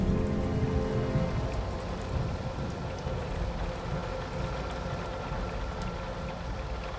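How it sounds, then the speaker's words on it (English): Steady rain falls in the video game Batman: Arkham Asylum, a dense, even hiss of drops on hard surfaces that holds constant throughout with no voices. "It was a dark and rainy night."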